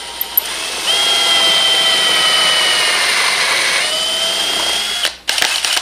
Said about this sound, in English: I'm going to set that on, I'm going to drill this hole.